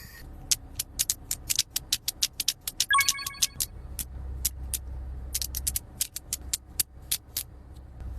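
A clicky magnetic slider fidget toy is slid back and forth, giving sharp, snappy clicks in quick irregular bursts, close and crisp, with a brief metallic ring partway through and a low rumble underneath.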